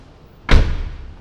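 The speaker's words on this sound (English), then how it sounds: "let's see how this door works now, huh?" A repaired car door swings shut with a single close, heavy thud followed by a short rattling decay, with no other sound around it.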